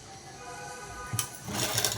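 A sewing machine stitches a night dress, with elastic being sewn on, in a couple of short mechanical bursts near the end, the second lasting about half a second, over a low room hum with faint talk.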